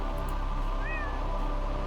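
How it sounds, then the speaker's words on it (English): A cat meows once in a horror video game, a short rising meow over a steady, droning ambient background hum. "Oh, another cat."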